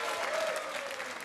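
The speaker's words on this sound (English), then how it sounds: "give her a massive round of applause." A live studio audience on a comedy game show applauds a volunteer called up from the crowd, giving a continuous, even wash of clapping heard at a distance and fairly soft, with no talking over it.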